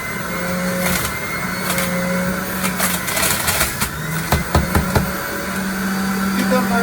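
A juicer grinds leafy greens and a whole cucumber, its motor whirring steadily with rising and falling strain, rattling knocks as pieces feed in, and a person talking over it.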